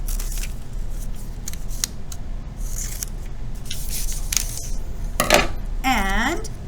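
Scissors cut out a paper apple with a series of crisp, close snips at irregular intervals, ending with a squeaky sliding scrape.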